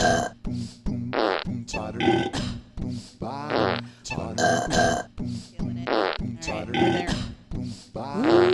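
A string of comic burp and grunt sounds from a novelty keyboard, loud and close, in quick bursts with short gaps between them.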